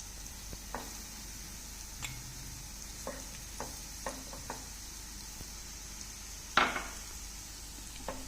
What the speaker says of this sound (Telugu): ఇప్పుడు మనం తురుముకున్న ఈ తురుము వేసి కొంచెం మీడియం ఫ్లేమ్ మీద వేయించుకుందాం